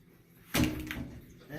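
The front cabinet doors of a CADE 1200S2 aquarium stand are handled, giving one close wooden thud-and-rattle as a door shuts, with a man's speech running throughout.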